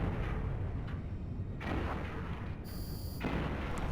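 Several explosions go off as enemy ships are destroyed in the space game EVE: a dense, continuous barrage of heavy booming blasts and crackling bursts with no pauses between them, fairly loud and with no talking.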